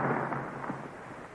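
Ray cannon blast and a rock splitting apart as a radio drama effect, a dense, muffled roaring rumble that starts loud and gradually fades over a second and a half.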